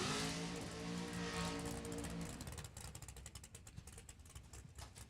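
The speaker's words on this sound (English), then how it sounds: "Nothing better than the sound of race cars on a Tuesday." Race cars at a drag strip on a Tuesday session: a loud, roaring engine drone that holds for a couple of seconds, then drops away into a rougher, pulsing mechanical rattle.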